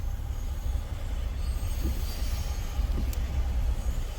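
Freight train cars roll past in Berea, Ohio, a steady low rumble with high metallic wheel squeals cutting through near and loud.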